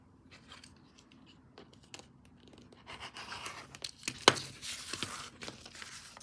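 Scissors snip through fabric to cut off a corner, a few quiet separate snips at first that build into a quicker run of crisp, closer cuts with rustling cloth, no talking.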